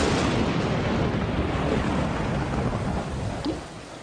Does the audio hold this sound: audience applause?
no